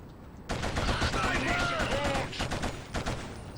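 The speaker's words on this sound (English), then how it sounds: "Taking heavy fire." Gunfire in the PS2 shooter Killzone: a dense, sustained burst of rapid shots and battle noise cuts in abruptly and carries on loudly for a few seconds before thinning out.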